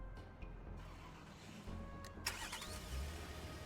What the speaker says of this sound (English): purchase 500 fuel, and then start truck.